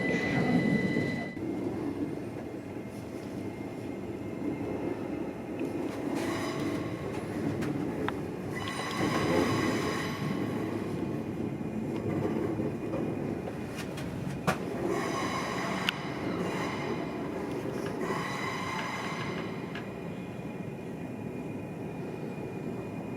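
A train rumbles steadily as it arrives at London Paddington station. The rolling noise is continuous, with occasional squeals and clanks from the wheels, and no voices are heard.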